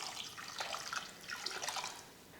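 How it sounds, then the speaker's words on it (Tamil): Water splashes and pours into a pot of toor dal with tomatoes, turmeric and garlic for idli sambar, a steady close gurgling stream for a couple of seconds with no talk. "தண்ணி ஊற்றிடலாம்."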